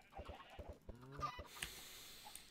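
Minecraft chickens in a team's chicken farm clucking and squawking in short, close bursts, with a few quick calls spread over a couple of seconds against faint background noise.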